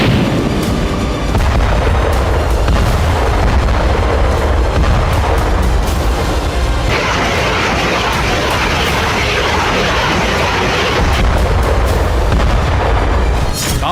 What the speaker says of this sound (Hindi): बैटल ग्राउंड से मल्टी बैरल रॉकेट लॉन्चर से बेहिसाब बारूद बरसाया गया